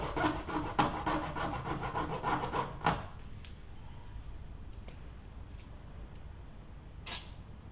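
A hand saw cutting through an umtshingo flute tube, a few seconds of quiet rhythmic rasping strokes that stop abruptly, followed by faint scattered taps and low room hiss.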